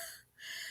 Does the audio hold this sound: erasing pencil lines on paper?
no